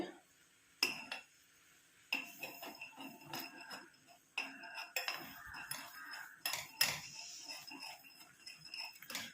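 Face cream being mixed in a bowl with a utensil, giving a series of sharp clinks and scraping taps at an uneven rhythm, close and fairly quiet.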